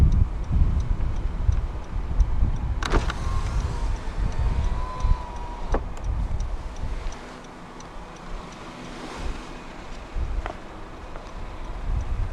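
Hazard lights on a 2016 Honda Civic Hatchback 1.4 i-VTEC S tick faintly and steadily over a low engine rumble, with a few sharper clicks in between.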